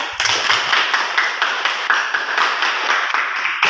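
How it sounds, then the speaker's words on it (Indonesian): Classroom applause for a student group after a chemistry lab presentation on acid-base indicators: a steady wash of many hands clapping together, loud and continuous throughout with no talk. "Mari kita berikan tepuk tangan untuk kelompok 2."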